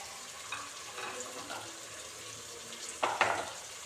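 Tomato, ginger, garlic and three green chillies fry with onions for beef curry, a soft continuous sizzle that builds to a louder scraping stir near the end, with no talking.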